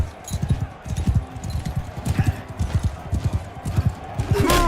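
Galloping horse hooves in the medieval combat game Mount & Blade 2: Bannerlord pound in a fast, steady clip-clop rhythm, close and loud, with a burst of clashing noise at the end.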